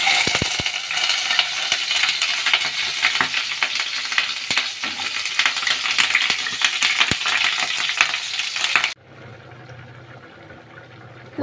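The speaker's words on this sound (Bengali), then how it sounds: "তো আগে পটল আলুগুলো ভেজে নিই।" Pointed gourd and potato pieces frying in a pan, a loud, dense sizzle with scraping stirs and clinks for about nine seconds before cutting to a quiet low hum.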